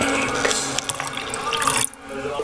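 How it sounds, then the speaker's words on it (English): Water runs from a tap into a bowl of beaten eggs, a steady splashing pour that cuts off near the end, leaving a quieter tail. "Two and a half cups of water into the beaten eggs."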